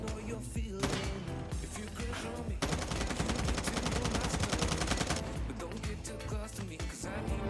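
Rapid automatic fire from an M4 assault rifle in COD Mobile: dense, continuous bursts of shots with a brief break near the start, steady and loud throughout, with no talking.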